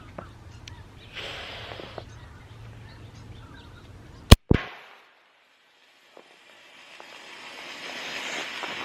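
A flare gun fires with one sharp, loud pop, followed by a brief crackling tail and then near silence, with quiet outdoor ambience before and after.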